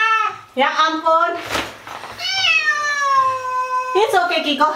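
A wet cat meows repeatedly and loudly during a bath, a string of drawn-out, wailing cries, with some splashing or handling noise between them and a person's voice mixed in.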